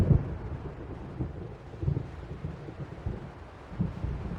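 Low rumbling thunder from an approaching storm in Alan Wake Remastered rolls on continuously with several swelling booms, mixed with wind and rain-like noise.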